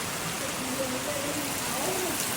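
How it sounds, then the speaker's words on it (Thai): Heavy rain pours down in a dense, unbroken hiss, with a faint voice murmuring softly underneath. "นอนฟังเสียงฝนครับ"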